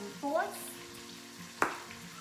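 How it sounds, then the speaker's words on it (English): Meat browning in a pot for pot roast, a soft steady sizzle close by with a brief stir or scrape midway, fairly quiet and without talk. "While the meat is browning"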